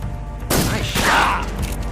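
A single gunshot in Metal Gear Solid 3: Snake Eater, a sharp loud report that cuts in abruptly and rolls into a sustained boom and rumble, heard alone with no one speaking.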